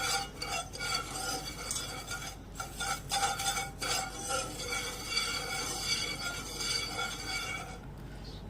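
Sugar being stirred in a pan over a low gas flame while it melts for milk powder pedha, a steady scraping and light clinking of utensil against metal running throughout with no voices.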